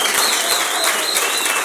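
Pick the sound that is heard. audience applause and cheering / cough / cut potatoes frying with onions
audience applause and cheering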